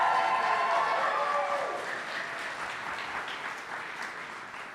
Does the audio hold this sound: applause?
yes